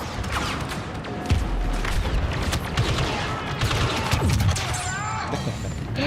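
Bursts of gunfire in a shooter video game, sharp repeated shots and impacts spread across the whole stretch, loud and busy, with faint talk in the background.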